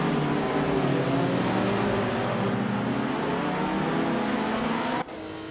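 A 1964 Austin Mini Cooper S races with a steady, buzzing engine drone held at high revs, loud and close, then drops abruptly to a lower hum at the end.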